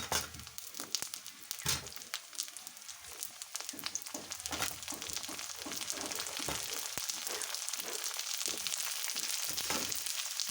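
Chopped potatoes go into a pan of frying onions for an egg curry, giving a loud, close crackling sizzle. Irregular stirring scrapes and clatters break through early, and the hiss then settles into a dense, steady fry with no speech.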